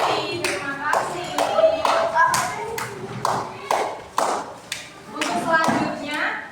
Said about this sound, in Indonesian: Beri tepuk tangan untuk teman-teman kita lagi.